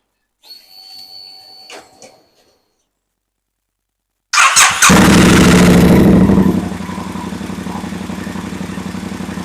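A Triumph Bobber 1200cc motorcycle with a newly replaced battery and a booster plug fitted cranks briefly and fires up, roaring loudly before settling into a steady, throbbing idle, preceded by a few faint clicks and quiet background noise.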